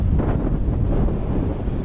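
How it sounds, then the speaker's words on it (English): Wind picking up outdoors in Glen Etive, Scotland, on a winter day, heard as a loud, steady low roar and buffeting against the microphone throughout, with no voices. "the wind picks up"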